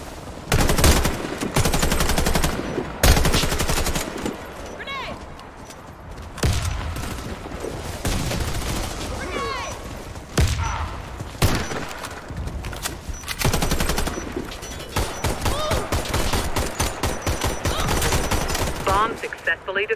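Rapid gunfire in a tactical shooter video game, with dense overlapping bursts of automatic fire and shots across the whole stretch, loud and close, and voices calling out between the volleys.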